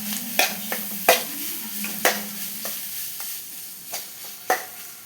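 Ground coconut is stirred into browned fried onions in a pan for egg thoran, giving a low sizzle with a series of distinct spoon scrapes and taps spaced about a second apart, close and fairly quiet.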